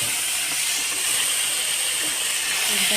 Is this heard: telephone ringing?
no